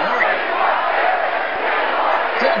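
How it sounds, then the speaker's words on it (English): A stadium crowd at a baseball game roars loudly and continuously, a dense wash of cheering that holds from start to finish. "As the crowd goes wild here"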